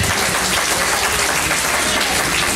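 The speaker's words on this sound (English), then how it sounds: "Clap your hands for the Lord." Church congregation clapping their hands together during a sermon, a loud, dense wash of applause that fills the whole moment steadily without pause.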